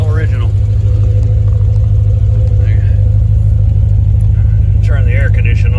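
A Paxton-supercharged C4 Corvette, a 35th anniversary all-original car with a TPI ZZ3 5.7-litre engine, runs at a steady, loud, droning idle heard from inside the cabin, with someone talking over it.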